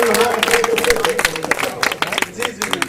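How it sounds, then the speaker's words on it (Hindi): A crowd at a mushaira poetry event in Raipur claps and applauds, with scattered hand claps mixed with voices and chatter. "एक बार जोरदार तालियां बजाइए हमारे हाथ से।"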